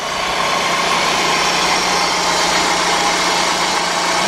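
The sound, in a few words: 2002 Dodge Stratus 2.4 engine running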